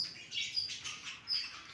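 Pet budgerigars in a colony breeding cage chirp in quick, bright bursts, several short tweets overlapping close by with no talking.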